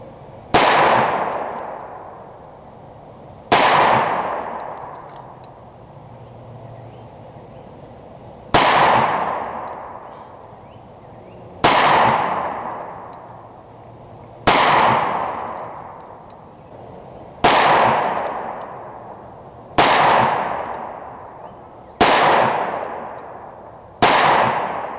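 Rock Island Armory 22 TCM 1911 single-stack pistol firing nine loud, sharp shots outdoors, spaced a few seconds apart at a slow, steady pace, each with a ringing echo that trails off.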